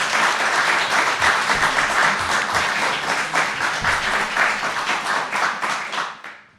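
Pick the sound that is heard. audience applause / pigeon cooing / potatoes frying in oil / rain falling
audience applause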